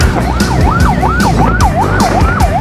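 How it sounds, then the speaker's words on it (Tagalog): An ambulance siren wails loudly and close by, its pitch sweeping up and down in a steady repeating cycle, with traffic rumble underneath. "at may nagwawangwang pa na ambulansya sa likod"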